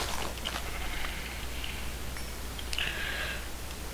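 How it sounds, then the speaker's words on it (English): Sheep in the video game Minecraft give faint, thin bleats, one brief call and then a longer one, set against quiet game ambience. "Come here, sheep."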